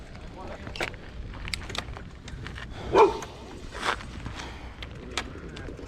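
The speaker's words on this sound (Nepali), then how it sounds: "यहाँ कुकुर पालेको छ" A dog kept at a house along a hillside path gives a single bark midway, amid soft background noise and faint voices.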